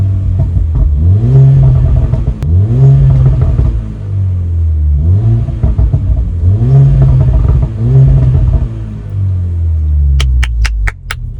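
Mercedes-AMG A45 engine revving hard and accelerating, loud and close, in repeated rising and falling surges through gear changes, ending with a rapid series of sharp exhaust pops and crackles.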